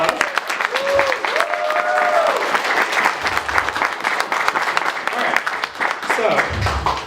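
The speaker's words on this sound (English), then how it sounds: "so give him a round of applause" A convention audience claps through a sustained burst of applause at an anthro convention's opening ceremony, with voices heard over the clapping.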